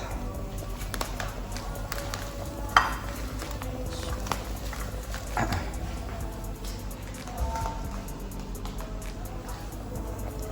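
Floured meatless meatballs fry in a hot pan, a steady sizzling hiss with occasional clinks and scrapes of a utensil against the pan nearby.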